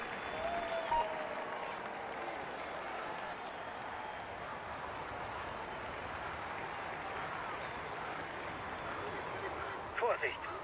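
Steady, dense crowd applause at a cycling time trial in the Tour de France 2016 video game, continuing evenly throughout the stretch with a small burst near the end.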